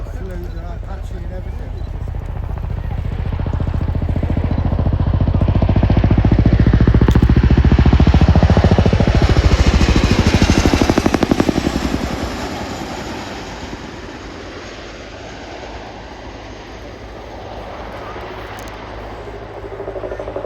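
A Chinook twin-rotor helicopter at an air show display roars past, its deep thudding rotor beat swelling to a loud peak overhead, then fading into a lingering distant drone.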